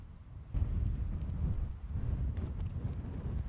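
Strong desert wind sweeps across a high desert golf course in Central Washington, buffeting the microphone in loud, continuous low roaring gusts with no break.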